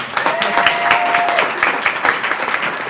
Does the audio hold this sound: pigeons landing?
no